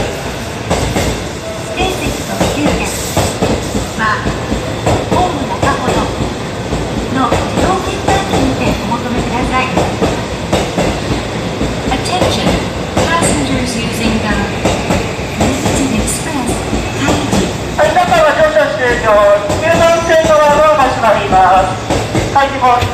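A JR E353 series limited express train rumbles and clatters steadily along the rails as it pulls away from Shinjuku Station, with announcements and chimes sounding over the continuous mechanical noise.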